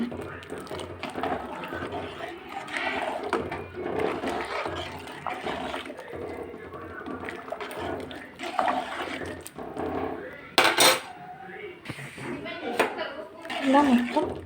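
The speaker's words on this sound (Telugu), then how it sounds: "ఇప్పుడైతే రవ్వ వేసి కలుపు" Semolina is stirred into boiling water in a pot while making upma, giving a steady wet, bubbling swirl under nearly continuous talk, with a brief sharper burst near the end.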